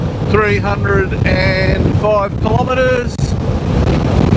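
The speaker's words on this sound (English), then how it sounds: "Very windy and blustery here at the moment" Gusty wind on the Western Australian coast buffets the microphone with a low, rough rumble while someone speaks over it.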